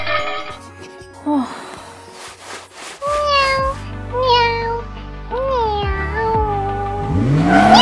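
A toy kitten gives several rising and falling electronic meows in a row, fairly loud and close, amid a busy backdrop of toy vehicle whirring and other play sounds.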